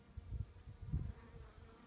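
Low, steady buzzing of many worker honey bees on a hive frame close by, a dense droning hum that swells and fades slightly without pause.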